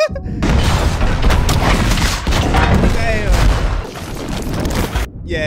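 Ship cannons fire in a battle scene from Pirates of the Caribbean: Dead Man's Chest, loud overlapping booms and rumbling blasts, with voices shouting over the barrage.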